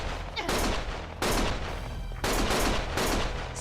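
Gunfire from the video game Lost Judgment rings out in several loud, dense bursts of overlapping shots with short gaps between them, close and with no one speaking.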